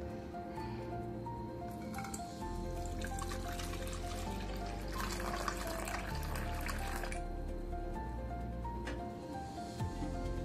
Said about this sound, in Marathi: आता याच्यामध्ये ना दूध ओतून घेते।